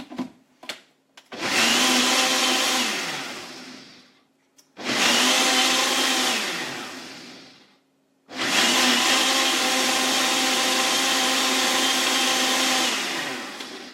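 A kitchen blender whirs loudly through a milk smoothie made from cupboard ingredients, running in three bursts with short pauses between, the last run the longest and steady.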